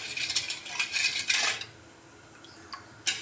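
A spoon stirs sugar into strained milk in a metal vessel, giving bright clinks and scraping rattles in quick bursts, then a short pause and one more clink, close and clear.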